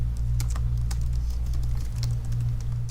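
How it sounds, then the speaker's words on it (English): Rapid, close keystrokes on a computer keyboard as a password is entered, irregular clicks over a steady low electrical hum, with no voices. "So you can see as I'm typing"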